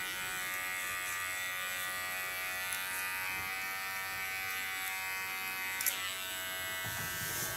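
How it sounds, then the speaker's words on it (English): An electric hair clipper hums steadily as it cuts hair in a combing position to soften a line on an asymmetric pixie bob, a close, even buzz with small clicks. "Put my clipper in a combing position and create a nice ultra soft line."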